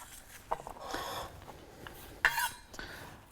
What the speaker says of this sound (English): I'm just going to chop the ends off the garlic.